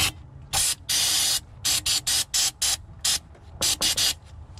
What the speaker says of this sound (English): Brake cleaner push.